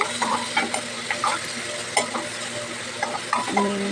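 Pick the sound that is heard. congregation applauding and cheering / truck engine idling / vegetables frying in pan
vegetables frying in pan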